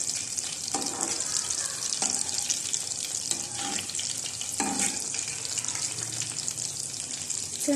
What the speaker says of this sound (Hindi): इस तरह से सारे जो नगेट्स हैं आप फ्राई कर लें।